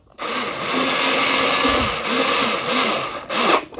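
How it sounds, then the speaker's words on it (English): A small cordless screw gun whirs steadily as it drives a screw into a wall mounting bracket for a digital calendar frame, a close, continuous motor buzz lasting several seconds with slight dips near the end. "And I just happen to have this little screw gun."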